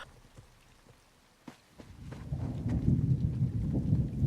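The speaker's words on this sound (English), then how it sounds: "Ooh, thunder." Thunder rumbling through a storm in the video game Elder Scrolls Online, Elsweyr region, a low rolling roar that swells after a quiet start and holds steady with rain-like hiss, no talking.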